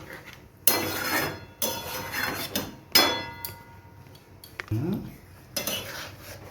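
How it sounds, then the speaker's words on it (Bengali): A metal lid clanks onto a cooking pot of vegetarian aloo dum, several sharp clinks and knocks of metal cookware close by, with brief rattles between them. "এবার একটু ঢাকনা দিয়ে ঢেকে দিই দশ মিনিটের জন্য"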